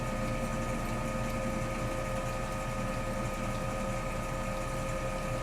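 A vibration plate exercise machine running with both motors on, giving off a constant steady mechanical hum and buzz at moderate loudness, with no talking.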